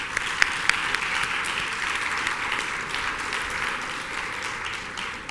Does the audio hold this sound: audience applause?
yes